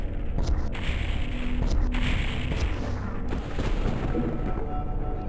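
Heavy, booming DOOM 64 weapon fire pounds continuously in a dense wall of blasts and explosions, loud and close, with brief bright cracks punctuating the roar.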